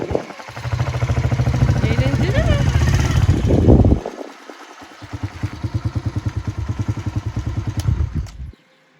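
A motorcycle engine runs close by in a village setting, idling with a steady chugging pulse, cutting out briefly and then restarting into the same rhythmic throb before stopping at the end.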